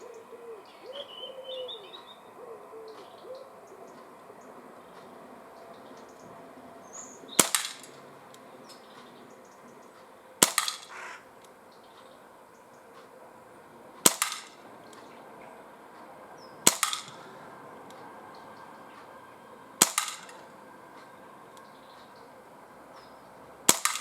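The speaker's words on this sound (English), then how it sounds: "again 8 shots freestanding, double action" Six sharp cracks from a Umarex CP88 air pistol fired double action at a 12.5 metre range, spaced about three seconds apart over a faint background with distant birdsong.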